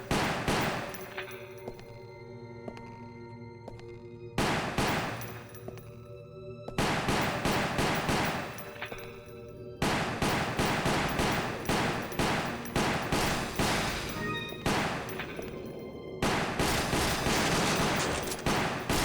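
Rapid shotgun fire in the video game Resident Evil Umbrella Chronicles, loud blasts in dense repeated bursts separated by short pauses, with no talk over them.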